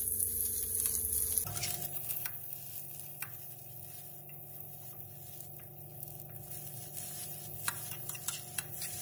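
Three kinds of chili fry in a very hot pot, a steady sizzling hiss with a sharp change as they hit the pan early on, then light clicks and scrapes of stirring continuing throughout.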